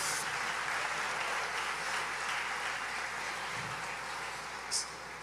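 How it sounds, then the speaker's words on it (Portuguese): A church congregation gives a round of applause for Jesus, a broad, steady wash of clapping from a large room, fairly distant and even throughout with a faint hum beneath. "Dê para Jesus uma forte salva de palmas"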